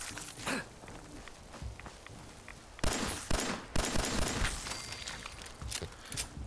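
Sharp 10mm pistol shots ring out in Fallout 4, a few loud, separated cracks with a burst in the middle, over softer footsteps and game ambience, without talking.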